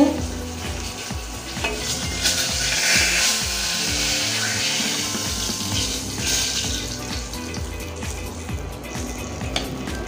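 Rohu fish frying in hot oil until reddish, a loud, close, continuous sizzle and crackle with stirring scrapes, no talking.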